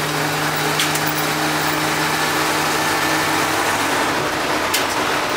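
A Grumman Kurbmaster step van engine running steadily, a loud continuous rumble with a mechanical whine above it and no breaks, likely heard from inside or close to the vehicle.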